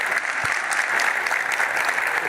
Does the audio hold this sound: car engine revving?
no